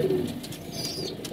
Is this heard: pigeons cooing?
yes